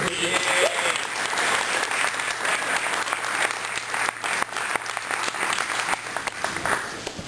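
An audience at a cannabis town hall applauds in a long, dense burst of clapping that holds steady and loud throughout, filling the room with no break.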